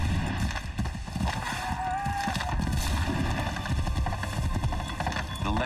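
Horse hooves clip-clopping in Assassin's Creed 3, a steady run under a dense game soundscape of music and ambient noise, with faint voices.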